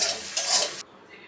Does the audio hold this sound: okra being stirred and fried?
yes